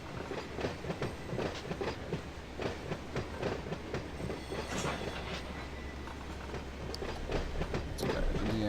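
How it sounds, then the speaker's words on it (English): A freight train rolls past in the Run8 train simulator, with steady rumbling and rhythmic clickety-clack of wheels over rail joints, dense and continuous throughout with no talk. "I want to see the train though"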